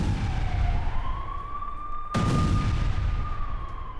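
A FAB-500 bomb explodes at a Ukrainian base in Kherson, a sudden loud blast about halfway through followed by a rumbling roar, while a rising and falling siren-like wail runs underneath the whole time.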